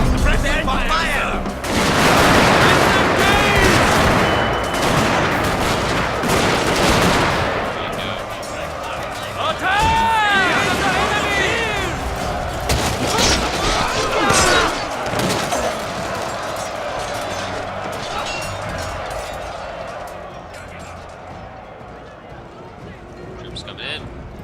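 Massed infantry fire volleys across a Total War: Shogun 2 battlefield. Dense crackling gunfire and booms roll in repeated waves over a busy backdrop of shouted commands, marching and clamor, loud and close throughout.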